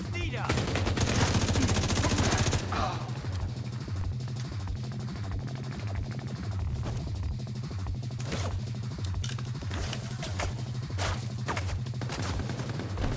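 Gun turret firing in Tom Clancy's The Division 2, a loud sustained burst of rapid automatic fire that eases into a steady rattling barrage with scattered impacts, continuous throughout and close.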